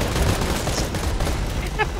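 Minigun fire in a video game, a dense, rapid stream of gunshots rattling continuously and loudly through the whole short stretch, with excited players' voices mixed in.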